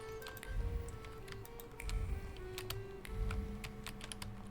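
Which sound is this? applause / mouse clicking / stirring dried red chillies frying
mouse clicking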